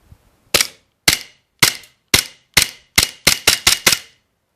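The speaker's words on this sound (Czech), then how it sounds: "Jdeme na střelbu pistolí zblízka." Ten sharp pistol shots crack at close range, evenly spaced at first and then fired more rapidly, each with a brief ringing tail.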